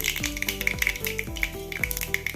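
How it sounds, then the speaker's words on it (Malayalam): Mustard seeds crackle and sputter in hot coconut oil in a pan, giving a quick run of sharp little pops over tonal background music. "കടുക് പൊട്ടി വരുമ്പം"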